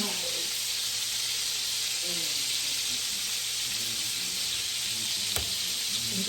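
Collard greens cook in a hot pan with a steady, bright sizzle and crackle, continuous and close, with one sharp tap near the end.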